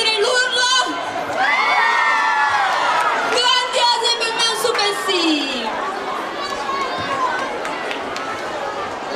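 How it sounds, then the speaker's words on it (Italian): A crowd of children at an end-of-year evening show shouts and cheers loudly and continuously, with whoops and excited chatter filling the whole stretch. "Fate sentire l'urlo."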